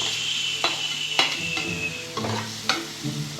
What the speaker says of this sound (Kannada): ಚಿಕನ್ ಹಾಕ್ತಾ ಇದ್ದಾರೆ ನೋಡಿ.